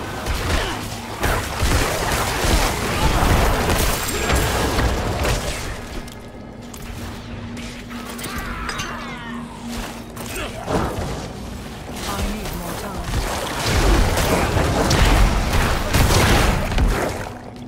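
Explosions and heavy combat effects in Diablo 4: Vessel of Hatred, a dense, continuous barrage of booms and crashes that stays loud throughout, with brief lulls and someone talking faintly underneath.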